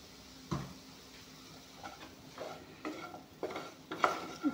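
Onion stalks frying in a pan with spice paste, a low sizzle under repeated scraping stirs of a spoon against the pan, roughly one stroke every half second.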